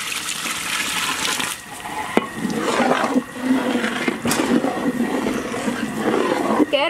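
Water is poured steadily into a pot of tomato kuzhambu being cooked in bulk, a continuous close gushing and splashing that runs for several seconds with brief dips.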